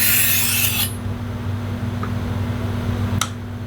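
A garden tool blade is drawn across a file or sharpener at a 45-degree angle, giving one raspy stroke at the start over steady background hum, followed by faint small taps.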